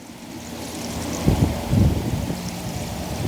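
Liquid from a gallon jug of urine pours onto a pile of biochar in a close, rushing splash that swells in a couple of heavier gushes and keeps running steadily, with no talking.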